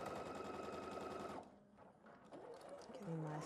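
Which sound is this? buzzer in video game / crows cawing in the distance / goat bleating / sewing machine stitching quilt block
sewing machine stitching quilt block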